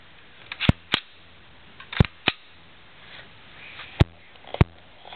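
Sharp clicks from adjusting the hop-up on a Real Sword SVD airsoft rifle, six crisp snaps in uneven pairs, close and loud over a quiet room.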